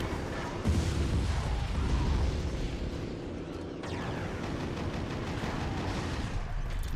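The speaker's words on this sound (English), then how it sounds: "Launch our gas can. Because we can't be near it when it goes off." A gas can blows up in the Twisted Metal: Lost vehicular combat game, giving a loud, dense explosive roar with rumbling blasts that continue steadily for several seconds, without talk.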